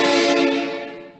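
A train horn sounds one sustained, loud, brassy blast with a steady multi-tone chord that fades out quickly. It is heard alone, with no talk.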